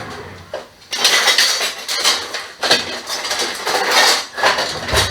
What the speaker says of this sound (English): We're going to get our knife.